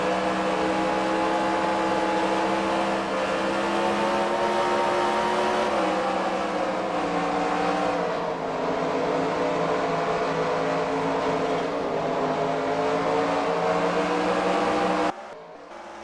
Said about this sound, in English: you can just hear the downshifting, the car wanting to step out